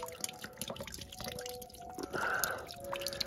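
Water drips from the loosened nut on a Potterton Gold boiler's filling loop, beside the return isolation valve. The drops are quiet and irregular, falling one after another with faint wet splashes and a brief trickle.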